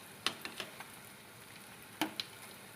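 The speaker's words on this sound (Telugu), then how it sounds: "గరిటెతో అలా తిప్పుతూ కలుపుకోవాలి." Punugulu fritters frying in oil, stirred with a ladle: a soft steady sizzle carries a few sharp scraping clinks early on, then a quiet stretch before two more clear ladle knocks.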